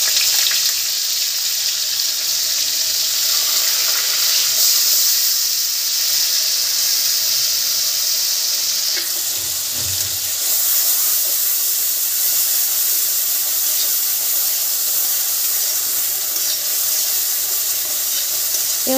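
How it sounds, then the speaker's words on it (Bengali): Onion paste frying in a pan gives a steady, loud, hissing sizzle that carries on unbroken for the whole stretch, with a brief low thump midway and no voices. "পেঁয়াজটা একটু ভাজা ভাজা করে নেবো।"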